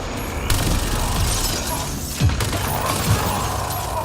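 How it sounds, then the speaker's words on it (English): Glass shatters amid gunfire and mechanical clatter in the sci-fi shooter Mass Effect Andromeda, a few sharp cracking bursts over a dense, loud battle din. "And popping glass all over the place."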